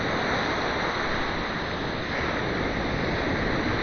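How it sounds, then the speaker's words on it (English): Waves break continuously along the shore at Kure Beach, North Carolina, a dense, constant roar of surf close by with wind rumble on the microphone and no one speaking. "Thought I would never see the ocean again"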